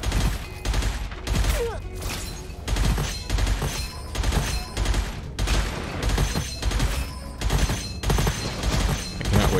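Rapid gunfire in the roguelite shooter game Gunfire Reborn, repeated bursts of loud close shots with brief pauses between volleys and no talk over them.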